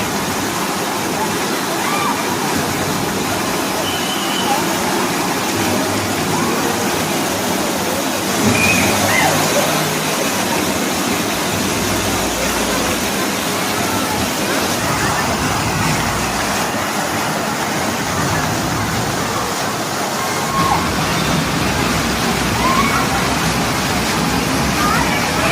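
Water rushes and splashes continuously at Wonderla water park, a loud steady roar like a waterfall, with muffled crowd voices mixed in throughout.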